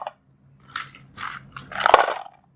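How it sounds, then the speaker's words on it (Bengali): Dried tomato pieces dropped onto a plate give a few brittle, crunchy clatters, building to a denser burst of small hard bits landing near the end, close and fairly loud with no talking. "এগুলো আপনারা এই প্লেটের উপরে ফেললে দেখেন কেমন শব্দ হবে"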